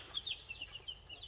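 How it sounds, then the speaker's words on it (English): Little Sussex chicks cheep in high, thin chirps that come thick and overlapping, close by and fairly quiet, with no voices. "And these are my little Sussex chicks"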